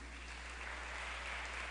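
A church congregation claps together in a brief, dense wash of steady applause that holds at an even level throughout, with no voices rising above it.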